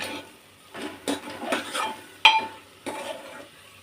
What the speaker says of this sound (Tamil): இப்போ கத்திரிக்காய் முருங்கைக்காய் மாங்காய் எல்லாத்தையும் போட்டு வதக்கியாச்சு.